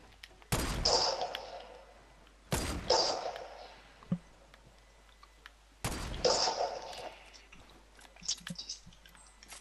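Gunfire in a shooting video game: three sharp, heavy shots with short echoing tails at about one, three and six seconds, plus fainter pops and clicks between them, all close and fairly quiet.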